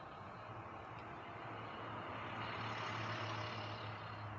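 Truck rumbling along the road beside an electric scooter ride, a steady low engine drone with broad road noise swelling slightly, fairly close, with no voices.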